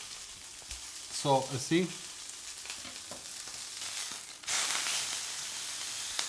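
Poultry skin frying in a pan as its fat renders, with sprigs of rosemary and a crushed garlic clove, a steady close sizzle that swells louder toward the end, briefly under a short spoken remark.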